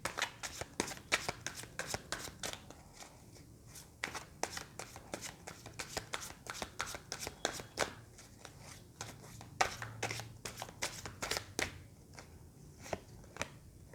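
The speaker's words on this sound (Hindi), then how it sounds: "जब तक मैं कार्ड शफल कर रही हूँ" Tarot cards are shuffled close up in a long, steady run of crisp riffling slaps and flicks with short pauses, fairly quiet and with no talking.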